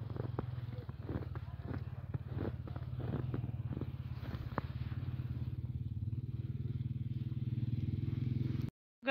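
A tractor clearing snow from a road in a snowy hill area rumbles with a low, steady engine drone close by, punctuated by scattered scraping and clattering knocks, before cutting off near the end.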